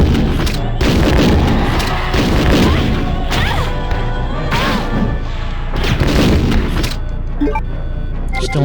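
Repeated heavy booms of grenade explosions in the video game Resident Evil 2, a rapid cluster of loud blasts and thuds with brief gaps between bursts.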